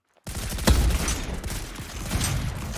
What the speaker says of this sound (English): I will try to take it out by the mortar